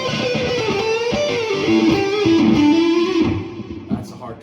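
An electric guitar plays straight into a Marshall JVM410HJS amp with no pedals, giving a loud, distorted tone with sustained notes and a sliding line before trailing off.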